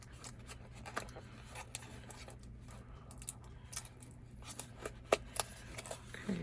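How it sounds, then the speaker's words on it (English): A birthday gift box is opened carefully by hand, producing faint, scattered papery rustles, small crinkles and soft tapping clicks at close range with no talking. "You open it up like this. Try not to rip the box."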